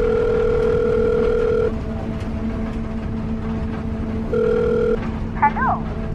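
A mobile phone dialing a mother's number plays a steady ringback tone, two long tone bursts separated by a quieter gap, followed by a short chirping electronic blip at the end.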